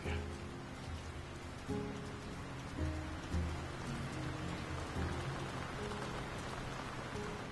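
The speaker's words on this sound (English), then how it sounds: "Who could live in a town where it's always raining?" Rain falling in The Lord of the Rings: War in the North video game, a steady hiss of rainfall on surfaces with low rumbling tones underneath, continuous and moderately loud.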